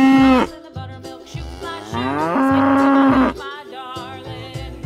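Recorded cow moos accompany a black-and-white toy cow, with several long, loud lowing calls sounding alone in a row, one drawn-out bellow in the middle.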